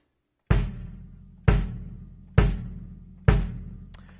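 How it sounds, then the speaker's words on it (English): Four deep, booming bass drum kicks played with a foot pedal at an even, steady pace, each hit thudding close and decaying into silence before the next. "So this is the bass drum."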